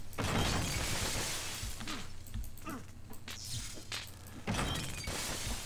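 Glass shatters with a loud, close crash in The Godfather II video game as a window is smashed in sabotage, followed by scattered tinkling and smaller breaking bursts through the rest of the moment.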